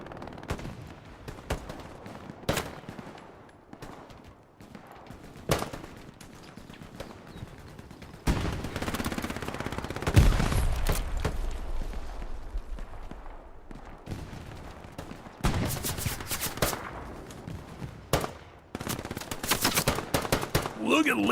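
Gunfire from Hell Let Loose in a competitive match in a Kharkov church map, with sharp single shots and rapid machine-gun bursts, some near and loud, others distant, under occasional speech.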